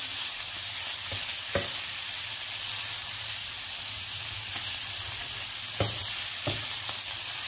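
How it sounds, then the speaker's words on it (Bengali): Chicken coated in chilli, cumin powder, garam masala and salt fries in a pan with a loud, steady sizzle and hiss, punctuated by a few sharp knocks of a spoon stirring it. "এখন আমি চিকেনটাকে হালকা একটু, হালকা না পুরোপুরি ভেজে নিব"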